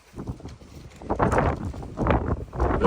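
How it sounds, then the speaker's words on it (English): Wind gusts buffet the microphone at an outdoor driveway site where a resin surface is about to be laid, a steady low rumble that swells and surges in waves, with no talking. "Very windy, guys. I do apologise."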